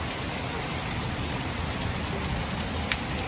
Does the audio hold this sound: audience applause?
no